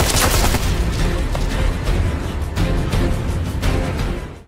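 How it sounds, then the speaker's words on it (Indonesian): Dense, rapid automatic gunfire from an action film plays loud and continuous, each burst overlapping the next in a relentless barrage, then cuts off abruptly at the end. "langsung menyerang para jamet dengan tembakan yang bertubi-tubi."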